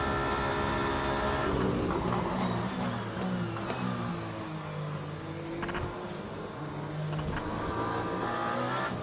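Peugeot Le Mans prototype race car in the Le Mans Ultimate racing game on a wet Spa-Francorchamps setup, its engine roaring steadily at top speed, loud and continuous with shifting harmonic whine and no talk.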